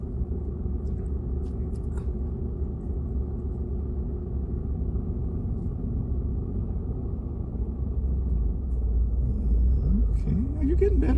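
Inside a manual-transmission car, a low steady engine rumble runs under muffled cabin sounds, and near the end the engine pitch climbs as the car pulls away in first gear.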